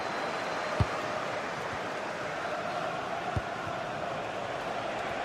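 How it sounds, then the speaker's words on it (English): A football stadium crowd roars steadily in the stands as the trailing side presses for an equaliser, a dense, constant wash of noise broken by two brief sharp thuds. "Well, just listen to this crowd. They want a bit more."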